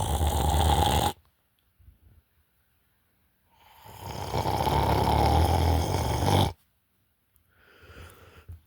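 A dog snores loudly in long rasping pulls, one near the start and a longer one midway, with quiet gaps between and a fainter breath at the end.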